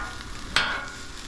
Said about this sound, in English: I'm gonna push all my veggies to one side.